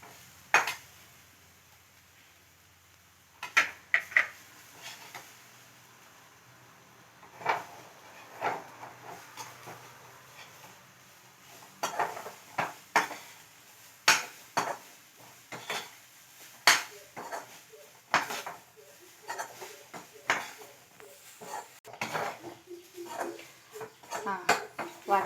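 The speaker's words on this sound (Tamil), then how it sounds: "இனி தேங்காய் கொட்டி வறுத்துக்கலாம்." Grated coconut is stirred and roasted in a pan for a cauliflower curry, with irregular metallic scrapes and knocks of a spoon against the pan that grow busier over time, and little else beneath.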